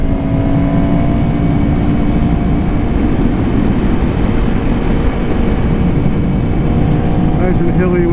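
A 2018 Aprilia RSV4RR motorcycle rides along hilly back roads in southeast Georgia, its steady engine drone mixed with heavy wind rush, loud and constant throughout, with a brief higher whine near the end.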